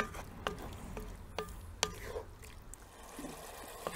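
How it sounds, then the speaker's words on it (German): Apple juice reducing in a Dutch oven being stirred now and then, soft liquid simmer with a few sharp clinks and scrapes of the spoon against the pot, fairly quiet. "Gelegentlich umrühren, dass der Apfelsaft schön Temperatur ziehen kann"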